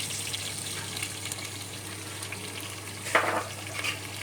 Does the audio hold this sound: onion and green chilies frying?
yes